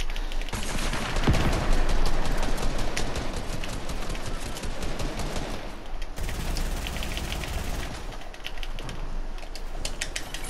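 Fortnite gunfire rattles in dense, rapid bursts throughout, loud and close, with a brief lull near the six-second mark before the shooting resumes.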